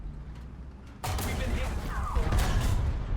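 A sudden heavy tank cannon blast in War Thunder booms out after a quiet moment, followed by a sustained rumbling roar of battle noise.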